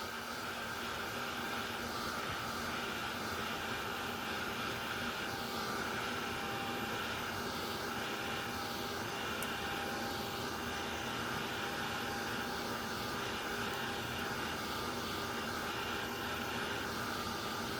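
A heat tool blows hot air to dry a Distress Oxide ink painting of an aurora borealis, giving a loud, steady, unbroken roar of fan and airflow that holds the same level throughout, with no talking.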